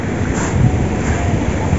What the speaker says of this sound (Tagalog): Mahirap pumunta ngayon kasi malakas yung alon.